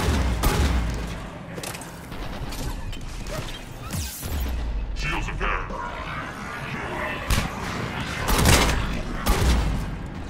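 A fast-firing weapon in the video game Mass Effect 3 multiplayer sounds in rapid, clattering bursts among crashes, booms and mechanical clanks, loud and busy throughout.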